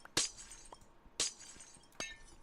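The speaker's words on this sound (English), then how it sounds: "So now we can break all of this glass here" Three sharp shattering crashes of glass blocks being broken in Minecraft, spaced about a second apart, each a bright brief burst with a tinkling tail, no talk over them.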